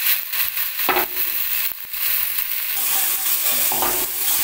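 Fried potatoes for dum aloo being stirred into hot spiced oil in a pan, giving a continuous loud sizzle with scraping spatula movements.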